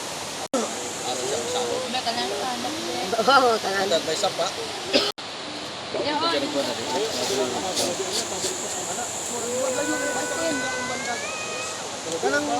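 Water pours steadily at Bangon Falls, a broad continuous rush running through the whole stretch while people chat and call out over it nearby.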